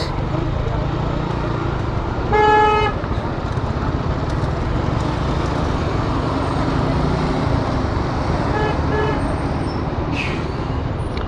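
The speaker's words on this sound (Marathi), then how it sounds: "खूप ट्रॅफिक आहे इकडे पुढे पण." Heavy road traffic on a congested highway near a toll plaza, a dense continuous roar of engines with a loud horn blast early on and fainter honks later, heard close from a moving scooter.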